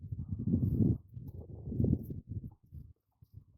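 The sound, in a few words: horse moving while eating grass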